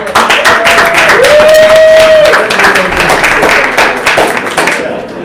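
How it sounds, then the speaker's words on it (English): Audience at a sauna pitching event in Tampere, Finland, claps loudly and close for a local pitcher, with whoops and voices mixed into the applause. "let's give a big applause to Jussi."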